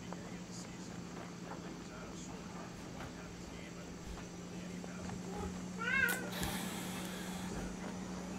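A pet cat meows once, fairly loud and close, with a rising and falling tone, over a steady low hum and background game sound while a person talks.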